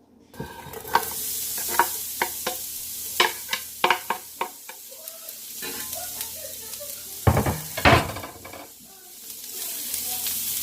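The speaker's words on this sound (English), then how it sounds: "now I'm going to throw in the onions on there and caramelize them" Red onion sizzles in olive oil in a pan on high heat, a steady hiss broken by repeated sharp clacks and scrapes of stirring, close and fairly loud with no talking.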